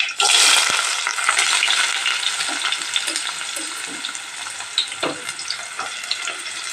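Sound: onion frying and being stirred in a pan

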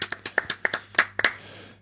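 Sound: people clapping hands briefly

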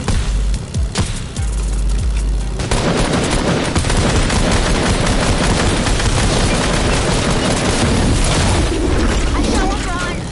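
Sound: gunfire in a video game battle

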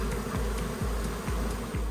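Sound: honeybees buzzing in a roof

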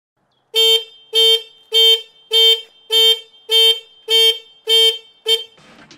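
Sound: Motogadget motorcycle alarm triggered by movement

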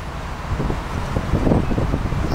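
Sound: wind blowing

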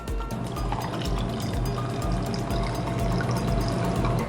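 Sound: pouring water over coffee

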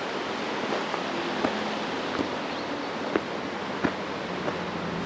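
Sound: river flowing near a campsite in Manning Park

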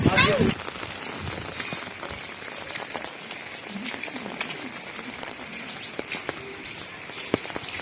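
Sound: heavy rain falling

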